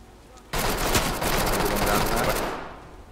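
Close-quarters gunfire in the tactical shooter Ready or Not: a sudden dense burst of rapid shots starts after a brief quiet lead-in, holds loud and steady for about two seconds with a short break, then tails off.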